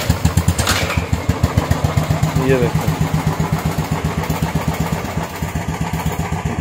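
A Bajaj Dominar 400 motorcycle idles after a kick start, its engine thumping in a steady, fast rhythm close by, loud and continuous, while someone talks over it.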